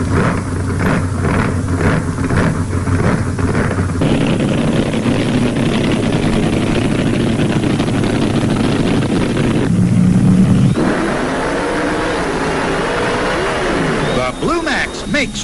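Vintage 1970s drag racing cars, a Ford Mustang driven by Bob Glidden against a Plymouth, roar loudly and steadily through a run, with engine drone shifting in pitch and a narrator talking over much of it.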